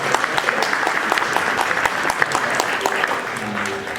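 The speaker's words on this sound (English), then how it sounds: "A nice round of applause." Audience applause at a Hall of Fame induction ceremony, a dense, steady clapping from a sizable crowd in a hall, continuing for several seconds with a faint voice briefly audible toward the end.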